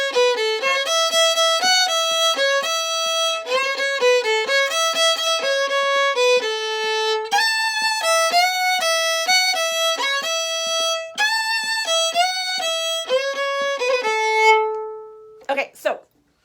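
Lil' Liza Jane played on a bowed string instrument at a quicker metronome tempo, with clear, evenly bowed notes in a brisk repeating melody, played alone and close up before a short final flourish.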